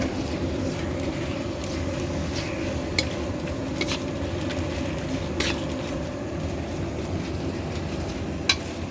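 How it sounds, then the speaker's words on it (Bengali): Ginger and garlic go into a pot of khichuri with onion, dried chilli and bay leaf, frying under a steady close sizzle broken by a few bright clinks of a utensil against the pot. "আদা রসুন দিয়ে দিচ্ছি।"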